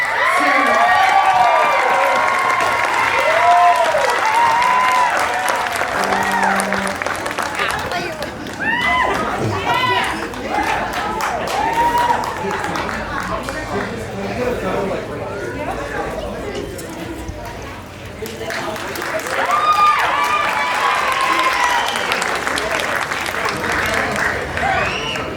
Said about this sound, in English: So if we could give a round of applause to Samira.